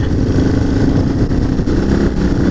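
A CCM R30S motorcycle engine drones steadily through a lap of a road race circuit, a loud, continuous mid-rev roar with a slight pulsing rise in pitch and no speech.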